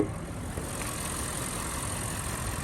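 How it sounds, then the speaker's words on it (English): A 2014 Audi RS7's 4-liter twin-turbo V8 idles with the hood open, giving a steady, muted low hum that is fairly faint and unbroken. "So this is a 4-liter twin turbo V8."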